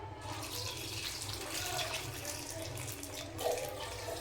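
Hot water pours steadily into a bowl of dry soya chunks for a few seconds, a continuous splashing stream close by with no talking.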